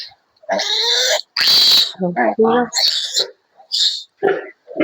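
Piglets getting their first taste of feed, giving a rapid run of close, loud squeals and grunts in short bursts with brief gaps between them.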